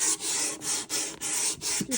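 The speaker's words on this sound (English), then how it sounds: "So I will be sticking my mask on and sanding all the areas that are still plain wood." Hand sanding of bare wood inside a doll's house, a close, scratchy rasping repeated in rhythmic strokes with short gaps between each pass.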